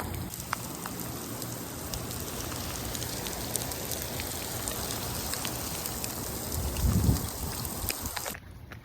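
Heavy rain falls steadily outdoors on a runner mid-run, a dense constant hiss of drops striking surfaces with some trickling, swelling slightly before cutting off near the end; no talking.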